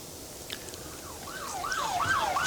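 Ambulance siren wailing in the distance at an attack site in Gaza city, a faint rising and falling tone over low outdoor rumble that grows slightly louder.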